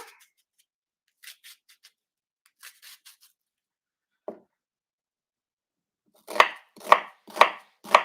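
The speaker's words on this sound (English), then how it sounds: "So let's just cut up this onion." A knife chops an onion on a cutting board: a few scattered quiet taps at first, then four firm, evenly spaced chops close by near the end, with no voices.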